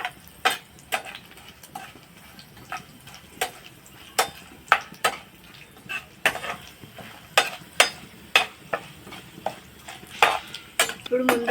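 Raw banana pieces frying in a pan on low flame, with soft sizzling under repeated sharp clinks and scrapes of a spoon stirring against metal at an uneven rhythm.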